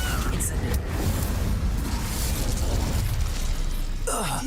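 A sustained fiery blast from the Incendio spell in the wizarding game Hogwarts Legacy roars loudly and evenly for several seconds, close and dense, with a short burst near its end.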